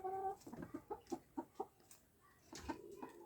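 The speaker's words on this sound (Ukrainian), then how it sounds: "Дуже красивий, гарний півник." A rose-combed rooster clucking nearby in a quick series of short, throaty clucks, followed by a pause and a few more calls.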